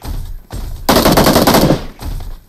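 Automatic gunfire in the mobile battle royale game PUBG Mobile, a loud close burst of rapid shots in the middle between shorter, duller pops before and after.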